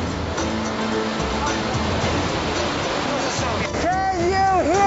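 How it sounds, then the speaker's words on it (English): Roaring river rapids at Tiger Leaping Gorge fill the air as a loud, constant rush of churning water, with a person speaking faintly near the end. "the rapids below me, of course, are part of Tiger Leaping Gorge"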